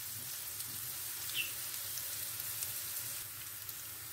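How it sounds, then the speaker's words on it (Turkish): Ground meat with onion and green pepper sautéing in oil: a faint, steady sizzle and crackle throughout, with a few soft scraping taps, no talk. "Biraz da bu şekilde kıymayla sotelenecek."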